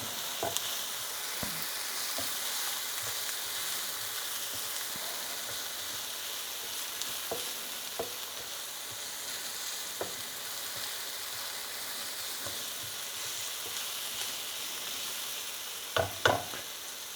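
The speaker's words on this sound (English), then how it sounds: "I'm just using the minced garlic. I'm going to stir that around for about 30 seconds or so." Minced garlic sizzling in a hot pan for a creamy sausage pasta, a steady soft frying hiss with occasional scrapes and clinks of a stirring utensil, a couple of louder knocks near the end.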